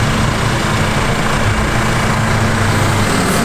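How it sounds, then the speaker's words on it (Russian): A tractor engine runs steadily and loudly on a rural road in winter, a continuous low rumble close by with no talk over it. "Там трактор."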